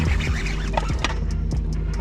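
A bird beside a small fishing pond gives a run of short, loud, close clucking calls in quick succession, with faint background noise and no talk.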